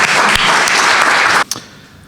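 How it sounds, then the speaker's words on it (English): An audience breaks into loud applause to welcome a speaker at a 2023 talk, dense clapping that holds steady and then cuts off abruptly, leaving a few scattered claps fading out. "So let's give Keith a big round of applause"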